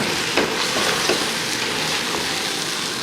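Rice being stirred into a tomato stew in a pot over high heat, with a steady broadband sizzle and a few soft scraping strokes of the spoon, close and fairly loud, no talking.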